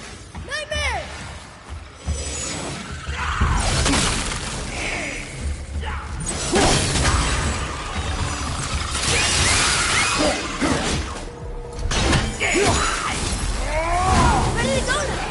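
Objects shattering in a video game, with repeated crashing breaks, smashes and whooshing sweeps spread over a busy stretch of game sound, loud and close.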